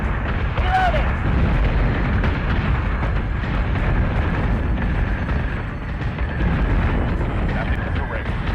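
Warship batteries fire in a space battle in Battlestar Galactica Deadlock, a dense, continuous roar of booming shots and rumbling blasts under spoken radio-style commands.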